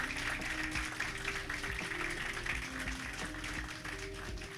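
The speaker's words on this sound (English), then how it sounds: "Let's give a round of applause." Audience applause at a groundbreaking ceremony for The Chimes: a steady, dense patter of clapping over a low humming tone, even in loudness throughout.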